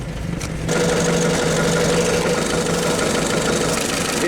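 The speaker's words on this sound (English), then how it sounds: "The engine is cold and I need it to heat up quickly." A cold engine idles steadily inside a Soviet Cold War-era military vehicle with no thermostat, a continuous rough mid-to-low rumble that starts quieter and grows louder after the first half-second, then holds constant and close.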